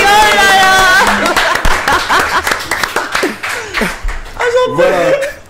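A small studio audience applauds a host on a morning radio show. Scattered clapping and chuckles sound under lively talk and exclamations.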